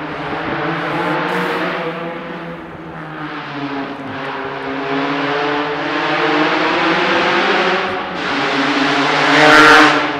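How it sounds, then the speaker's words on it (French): A motorcycle engine roars loudly and close, its pitch rising and falling as it revs through the gears, then climbing to a final peak near the end. "Les fous du volant, ça c'est une moto"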